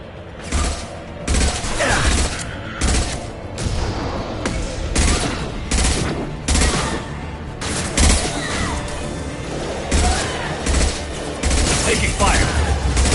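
A Mass Effect 2 firefight on PS4 brings repeated bursts of rapid automatic gunfire, loud and close, arriving in short volleys with brief gaps, while voices shout faintly beneath the shooting.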